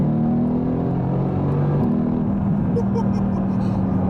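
A Mercedes-AMG GT S being driven, its engine holding a steady, close, low droning hum with a faint rising whine, broken only by a few light knocks near the end.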